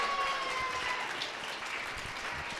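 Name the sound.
audience applause at rally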